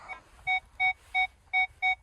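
Metal detector sweeping during a search gives five short, evenly spaced electronic beeps, close and clear above a low background rumble.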